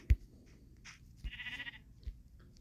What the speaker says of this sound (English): Look, a sheep.